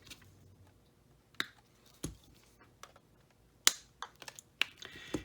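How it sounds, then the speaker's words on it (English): Diagonal cutters snipping lead U-came while building a leaded glass lantern, a few sharp quiet clicks and snaps spaced irregularly over faint background hiss. "I'm just going to come in here with my dikes and I'm going to cut this in here."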